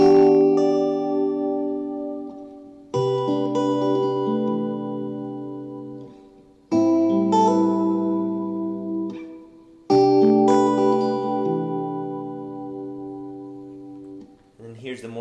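An electric guitar fed through a StarGazer reverb pedal on its subtle setting plays four sustained chords, each decaying smoothly into a soft reverb tail before the next, close and clear with no talking.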